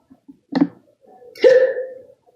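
A single close sneeze: a short breathy intake, a pause, then a sharp voiced burst.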